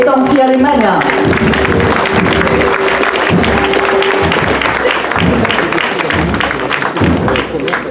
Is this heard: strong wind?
no